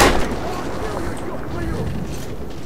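Continuous booming gunfire and explosions rumble in the Metro 2033 video game, loud and dense throughout with no clear gaps between shots.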